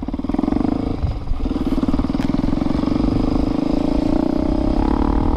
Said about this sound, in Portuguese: a gente só quer testar a nossa moto, mostrar pra vocês a diferença da potência nova aí